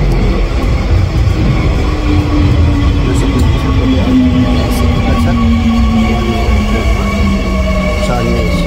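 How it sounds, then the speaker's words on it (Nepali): A train pulling into a station in Korea, heard as a loud, continuous low rumble with a slowly falling drone and faint high squeal above it, the wheels and motor filling the platform. "फेरि अर्को ट्रेन आइसकेको छ"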